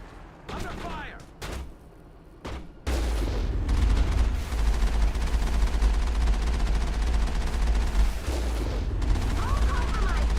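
Sustained gunfire in Mass Effect: a few sharp isolated shots, then after a pause a loud continuous barrage of rapid fire and booms lasting several seconds, with a voice talking over it.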